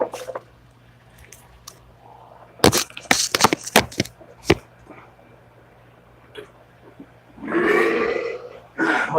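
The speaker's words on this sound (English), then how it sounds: "don't burp on purpose" Sharp crackling pops and a loud rough burst come from a family member at home, close and uneven, with a quiet low hum underneath and no talk.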